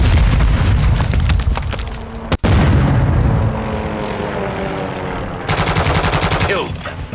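Enemy care package drop in the video game Modern Warfare 2: loud aircraft roar and booming blasts mixed with rapid gunfire bursts, a sharp crack partway through and another burst of rapid firing near the end.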